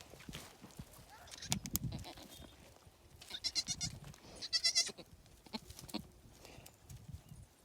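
Goats with a newborn kid on a farm, several short bleats rising in bursts amid rustling and hoof shuffling, with people talking quietly nearby.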